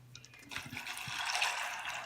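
Tap water runs into a pot of dry chickpeas (chana) set to soak. It starts with a few light splashes, then becomes a steady, rising rush of filling water with no talk.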